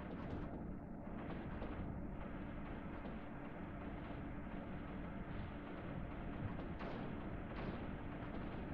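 Steady barrage of mortar and artillery fire in the strategy game Creeper World 3, dense overlapping booms and rumbling blasts with no pauses, loud and continuous throughout.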